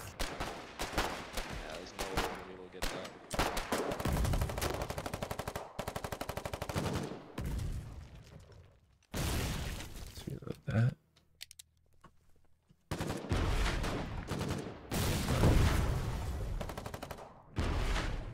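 Gunfire in the war game Foxhole, with dense bursts of automatic fire and sharp shots that come in loud waves, broken by brief pauses and muffled thumps.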